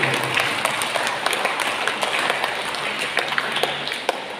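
A church congregation at a Sunday Mass claps together in a sustained, moderately loud round of applause, with individual claps standing out sharply within the even patter.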